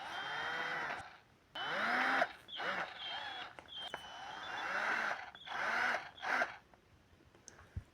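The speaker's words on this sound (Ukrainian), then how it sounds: "І шуриком по-бистрому все закручую." A cordless screwdriver drives screws into a propeller guard for a DJI Mini 2 drone: several short whirring bursts whose motor pitch rises and falls, close by, separated by brief pauses.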